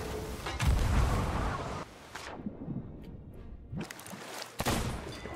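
Several heavy booms of cannon fire in a video game, each a deep blast with a rolling tail, separated by brief quieter gaps.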